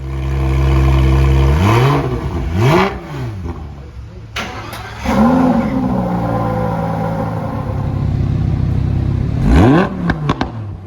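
A supercar engine revs hard as the car is driven quickly through a corner, with repeated loud rising and falling sweeps, brief lifts between bursts, and a final sharp rev near the end, close and without talk.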